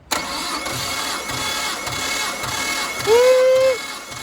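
Nissan R33 with an RB25DET engine running steadily, then revved hard with the throttle held for about a second near the end, a rising tone sustained before it drops back to idle.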